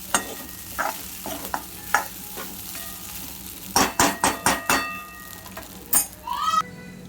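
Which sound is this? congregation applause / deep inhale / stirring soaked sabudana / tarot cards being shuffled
stirring soaked sabudana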